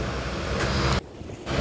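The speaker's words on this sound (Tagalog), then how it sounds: "Bawat hampas guys ng alon ay may dalang basura." Ocean waves hit a trash-strewn shore with a continuous broadband roar and wind buffeting, loud and steady, briefly dipping before surging again.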